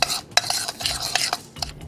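A dry spice rub of curry, mustard, coriander and cumin being stirred briskly in a bowl, giving quick scraping and tapping strokes, close and fairly quiet, with no talking.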